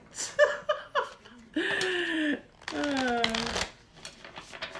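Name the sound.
shuffling tarot cards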